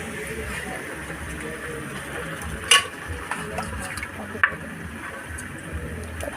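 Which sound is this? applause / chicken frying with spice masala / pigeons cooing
chicken frying with spice masala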